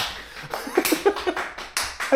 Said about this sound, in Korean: 저 성의 없는 박수 봐